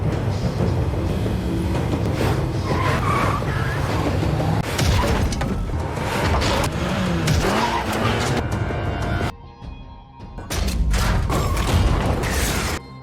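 Cars skid and crash during a highway chase in a movie, with continuous loud tire squeals, engine roar and heavy thuds and impacts, briefly dropping to a quieter moment before the chaotic noise resumes.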